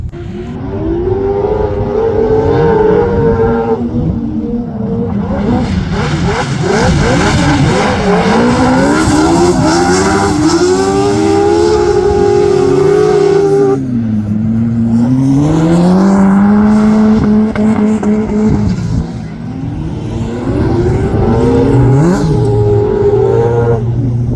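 Autograss race cars howl through repeated revving and accelerating passes, loud and close, with gear changes, engine pitch rising and falling throughout and brief tyre squeal amid the continuous racing.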